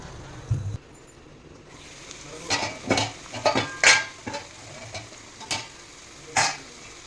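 Gunta ponganalu fry in a pan, with a soft sizzle under repeated close scraping and clinking of a utensil turning them, in irregular bursts.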